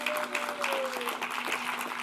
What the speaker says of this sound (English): Give Barney Frank a big round of applause.